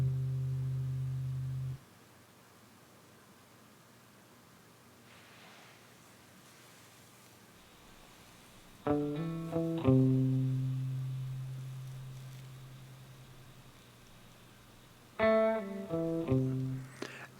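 A few plucked electric guitar chords ring out dry and close, separated by near-silence, each decaying naturally without echo.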